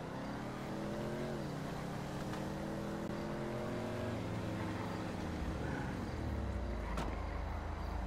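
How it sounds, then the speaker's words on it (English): In a police roleplay video game, a fleeing car's engine revs and drops through several pitch sweeps, loud and continuous as it accelerates away, with faint background sound. "he's got in the vehicle. He's attempting to flee the scene on us."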